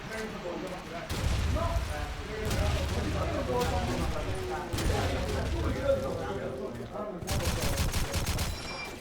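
Rapid bursts of gunfire from a team match in a competitive online shooter, played on the Burgundy and Toujane maps, with overlapping shots and loud volleys running throughout and voices mixed underneath.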